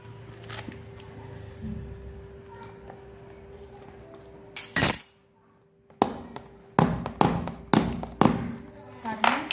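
Sharp hammer strikes fix a side handle in place, starting with one isolated knock and finishing in a quick run of close, loud blows, with faint background sounds between them.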